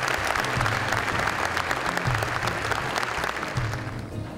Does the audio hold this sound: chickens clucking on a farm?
no